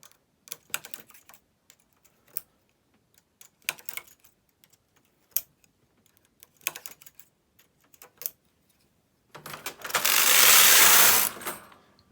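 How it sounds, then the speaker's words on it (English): A lace carriage on a Brother KH-260 chunky knitting machine gives scattered short clicks and ratcheting clacks, then a loud continuous mechanical rasp of about two seconds as it slides across the needle bed, close by with no talk. "So just take the carriage back until we get to the turnaround mark on the card."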